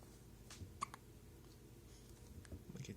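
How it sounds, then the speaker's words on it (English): A baby hiccups softly, with a few faint, isolated little hiccups spread across a quiet room with light background noise. "You got your hiccups?"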